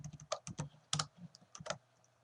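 Clicky keystrokes on a computer keyboard while code is typed, a quiet, close burst of irregular taps and short clusters over about two seconds, then stopping.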